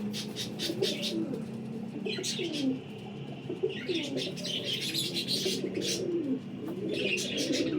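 Golden parwazi pigeons coo in steady overlapping phrases, close and moderately loud, mixed with light chirps from other birds and no talking.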